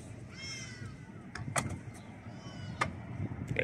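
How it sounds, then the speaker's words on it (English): Porsche Cayenne S Coupe windows sliding shut with a soft motor whir, followed by a few sharp lock clicks and clunks from the body, close and fairly quiet. "if I push this button here, it will both close and lock the car"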